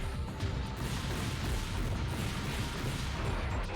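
Cluster homing missile launches in the mech combat game Gungriffon Blaze, a dense, continuous roar of rapid blasts and rumbling impacts that stays loud and steady throughout.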